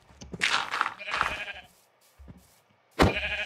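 Sheep bleating in the Minecraft video game, several wavering calls in a row with a loud one near the end, mixed with light game sounds.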